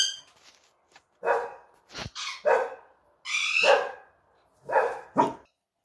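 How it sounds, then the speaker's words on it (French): Several dogs bark outdoors through an open door near a home craft table, giving about six sharp, loud barks in irregular bursts with short silences between them. "les chiens sortent, et à chaque fois, on y a le droit, ils aboient"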